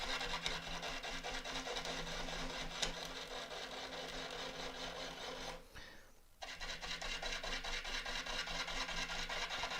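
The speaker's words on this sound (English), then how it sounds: "the wood is still being sliced by the gouge rather than being chopped" A gouge cuts an elm burr spinning on a wood lathe, making a steady close rasping and rubbing over a continuous motor hum, with one brief dip in the middle before the cut resumes.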